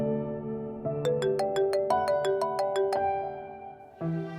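A phone ringtone plays a bright, repeating melodic pattern of distinct tones at moderate volume, continuing steadily through the moment and picking up again at the end, with no one talking.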